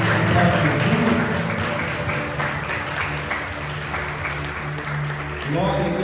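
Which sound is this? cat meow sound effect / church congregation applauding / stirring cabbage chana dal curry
church congregation applauding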